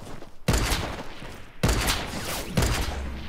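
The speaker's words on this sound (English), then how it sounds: "Someone's sniping from somewhere, I don't know where." Sniper rifle shots in the mobile version of Fortnite, three loud sharp blasts about a second apart, each followed by a ringing, echoing tail.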